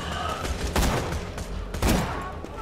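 Rapid gunfire in Borderlands 2 co-op play crackles loudly, with a steady stream of shots broken by two sharper, heavier bursts of fire.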